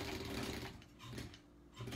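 Sewing machine stitching appliqué on a quilt block, a close, steady mechanical whir that rises and slows as the stitching pauses and restarts.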